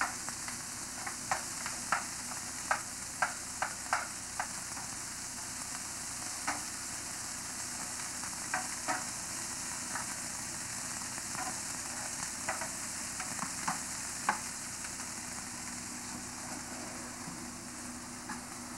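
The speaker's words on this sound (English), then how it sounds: "Cooking the onions until they saute them until they're a little bit soft" Onions sauté in a pan with a soft, steady sizzle, punctuated by a string of light clicks and taps from a utensil against the pan.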